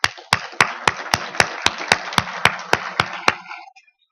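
Sharp, evenly spaced hand claps ring out in a reverberant room at a corporate event, about a dozen in a steady slow rhythm with echo trailing each one, before stopping abruptly.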